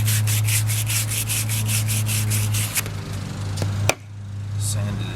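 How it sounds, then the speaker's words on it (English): Sandpaper scrubs a wooden part for a rink rake in rapid back-and-forth strokes, a rhythmic rasping close up that stops partway through, followed by a sharp knock and quieter handling sounds over a steady low hum. "Sanded it down."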